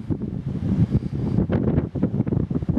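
Wind gusting hard through a forest overlook at Coopers Rock State Forest on a cold, rainy November day, a steady loud rumbling roar buffeting the microphone, swelling in stronger bursts, with no talk.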